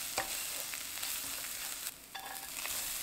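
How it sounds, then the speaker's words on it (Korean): Anchovies and minced garlic stir-fry in oil in a pan over medium heat, giving a steady, fairly quiet sizzle with scraping stirs of a spatula, no talking. "미리 볶아놓은 멸치 넣어주세요. 기름이 골고루 배이도록 볶아줍니다."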